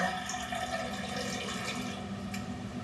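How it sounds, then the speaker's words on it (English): About a cup of water poured into raw chocolate brownie mix, a steady soft splashing trickle lasting a few seconds, heard alone at moderate volume. "And then I am going to put some water in. I'm just going to do about a cup of water."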